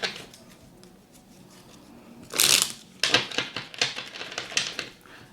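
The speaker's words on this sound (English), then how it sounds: "I don't know how to shuffle other than to rifle." A worn deck of Lenormand cards is riffle shuffled: a short burst of fluttering card snaps, then a second, longer riffle with rapid clicks and taps, close and clear with no talking.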